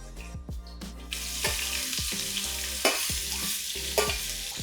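Three cloves and ten peppercorns frying in hot oil in a pan, a rising hiss with repeated clinks and scrapes of a stirring spoon against the pan, near and steady, no talking.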